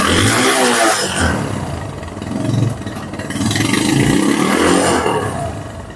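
A Bajaj Discover 135cc motorcycle in fresh condition idles up close, giving a loud, steady, rough engine drone that swells and dips slightly, with no one talking.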